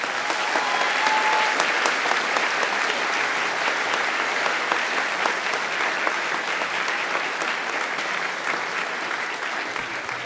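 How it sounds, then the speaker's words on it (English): A large audience at a SOAS graduation ceremony gives sustained, even applause, a dense wash of clapping that holds steady for about ten seconds and tapers slightly at the end. "that's a very polite applause"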